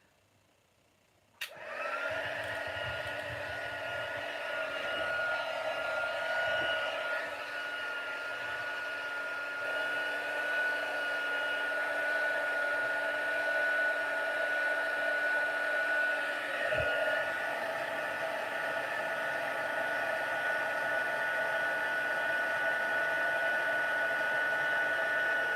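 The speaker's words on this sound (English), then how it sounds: "Heat tool coming." An embossing heat tool switches on with a click and blows a loud, steady whooshing hum that runs on unbroken, close and alone, during a paper-crafting stamping session.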